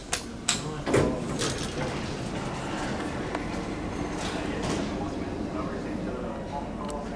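A 1986 Dover Impulse hydraulic elevator at Easterwood Airport riding, with a few clunks and bumps at the start and then a steady low rumble of the moving cab, while a person talks over it.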